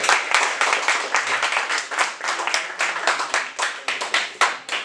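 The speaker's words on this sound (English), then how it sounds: "A round of applause." A quiz-show audience claps in a steady, dense round of applause that lasts several seconds, with faint voices mixed in.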